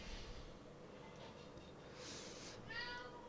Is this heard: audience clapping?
no